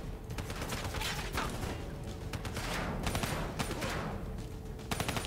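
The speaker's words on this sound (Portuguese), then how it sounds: "tem vagabundo me atirando aqui" Enemy gunfire in Call of Duty: Black Ops 3's campaign, a steady fusillade of rapid distant shots and bursts, fairly faint and continuous throughout.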